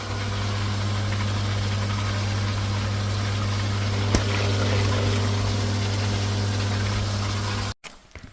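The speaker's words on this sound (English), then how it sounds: "Now we can get the pump and the filtration up and running." A pool pump and filtration system running after a pool leak repair, a steady loud low hum with a constant mechanical drone, close and unbroken, cutting off abruptly near the end.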